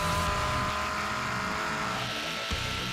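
F4 race cars race at Canadian Tire Motorsport Park, engines roaring close and loud in a brief burst, the pitch shifting as they pass and accelerate.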